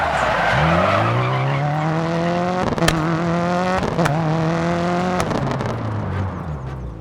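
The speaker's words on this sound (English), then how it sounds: "A quick jab of the handbrake can break traction and help get you around tight hairpins" Rally car in the Dirt 4 video game skidding under a handbrake pull, loud engine drone with rising and falling revs and several sharp tire squeals across the stretch, no voices.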